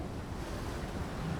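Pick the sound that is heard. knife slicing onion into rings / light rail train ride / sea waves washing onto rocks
sea waves washing onto rocks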